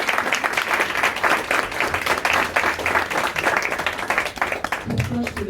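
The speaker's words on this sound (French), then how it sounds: "Donnez un applaudissement, s'il vous plaît." A brunch audience at an anniversary gathering breaks into applause, a full continuous crackle of many hands clapping with some voices mixed in, tapering as a speaker resumes near the end.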